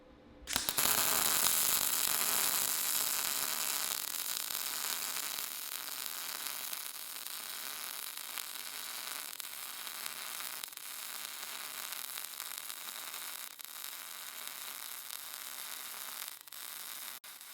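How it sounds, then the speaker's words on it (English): A cheap flux-core MIG welder lays a bead, producing a steady loud crackling hiss that runs almost the whole time with only slight variation, alone without speech. "Well, let's weld something."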